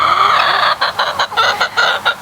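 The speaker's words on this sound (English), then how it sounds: "I got a good looking flock of birds." Backyard flock of chickens clucking loudly and close, with overlapping hen calls forming a steady chorus that breaks into a rhythmic series of short repeated clucks.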